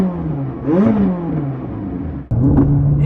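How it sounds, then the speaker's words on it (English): The engine of a 600 car starting up and revving, a deep, loud rumble whose pitch rises and falls, cutting out briefly before catching again into a steady idle close by. "start the car up, and go for a little drive"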